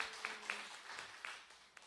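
A small church congregation claps during a Sunday worship service, producing sparse, uneven claps that stand out as distinct hits over a quiet room.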